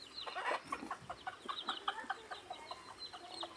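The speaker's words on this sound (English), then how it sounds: "we have a chicken and the chicks under, which are also benefiting from the remains of the foods" A hen clucks beside her chicks at a pig farm, with repeated short clucks and peeping calls in a quick irregular rhythm, fairly near but soft, and no voices.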